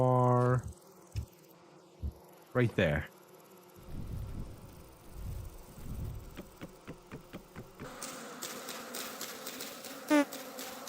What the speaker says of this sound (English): Bees are getting louder.